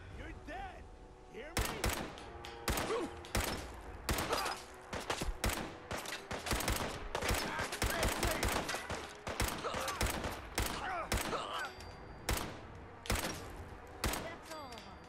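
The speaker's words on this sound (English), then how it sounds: "It's got a barrel magazine. It's just insane. It's like a machine gun." A machine-gun-like gun with a barrel magazine fires in Fallout 4: dense, rapid bursts of loud gunfire crackle almost nonstop, with brief pauses between volleys.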